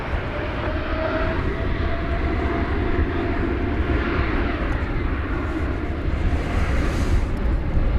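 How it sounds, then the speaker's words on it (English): A Turkish Airlines jet departs DFW for Istanbul with a loud, sustained low rumble and roaring engine noise that stays steady throughout, with no talk over it. "So here goes this flight to Istanbul"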